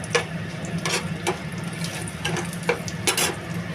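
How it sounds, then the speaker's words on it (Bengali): Cumin seeds and bay leaves fry in oil with a continuous crackling sizzle, broken by a few sharp pops and clinks at irregular moments, fairly close. "এবার তেলে দিলাম একটুখানি জিরে আর তেজপাতা।"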